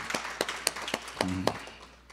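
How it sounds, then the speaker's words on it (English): A few scattered, sharp handclaps from an audience at a Martin Luther King Jr. birthday breakfast tribute, irregular and moderately close, with a brief voice in the middle and trailing off into quiet. "And can we clap to that?"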